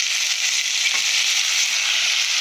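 Chicken pieces frying in a pan for shawarma, giving a steady, close hiss of sizzling with a brief stir partway through and no talking.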